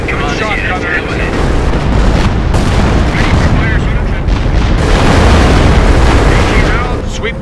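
Tank cannon fire and artillery explosions from the WWII strategy game Company of Heroes, set in the battle for Caen in 1944, rumble as dense continuous booms and blasts with radio-style voices talking over the barrage.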